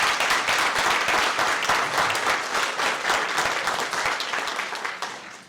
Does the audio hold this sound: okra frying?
no